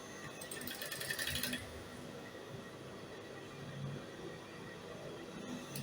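A sewing machine stitches a tulle mesh neckline in a short, fast run of close stitching that stops after about a second, leaving a quiet room hum.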